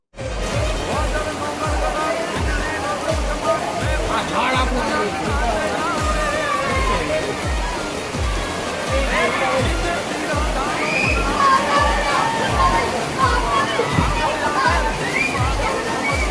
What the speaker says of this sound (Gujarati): પાણી તો હાલી રહ્યું છે જાણે નદી બે કાંઠે વહેતી હોય